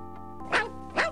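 Two sharp dog barks from the Simon the Sorcerer adventure game, spaced about half a second apart over a quiet steady background tone, close and clear.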